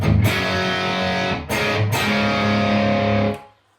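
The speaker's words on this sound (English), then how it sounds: "that's the sound of the amp as I got it" A distorted electric guitar rings out through a warm, gritty 1976 Marshall 2203 JMP valve amp at moderate volume, with sustained chords and brief breaks before the last chord fades to silence.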